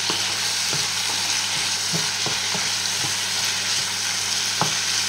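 Sausages, lentils and lardons simmer and sizzle steadily in a pan, a dense continuous frying hiss with occasional soft clicks of stirring, close and loud with no voices.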